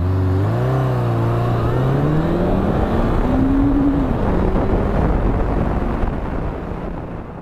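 Honda CB1100 RS motorcycle from 2017 pulling away from a standstill in a 0 to 100 run, engine pitch climbing steadily through the gears, loud and close with wind rush, fading slightly at the end.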